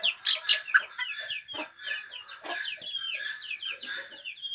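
Hens and chicks clucking and peeping inside a cleaned henhouse, a busy overlapping chorus of near, moderately loud calls running throughout with no talk.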